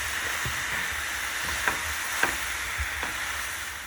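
Mushroom ragu being stirred and broken down in a pan: a soft, steady sizzle with a few dull scrapes and taps of the utensil against the pan, close and without talk.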